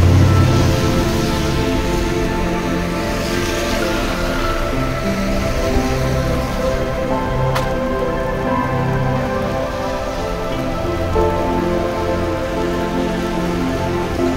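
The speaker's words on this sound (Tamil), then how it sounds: "now only raining in Qatar" Rain falls steadily in Qatar, an even, loud wash of drops on nearby surfaces over a low background hum, continuing without pause or voices.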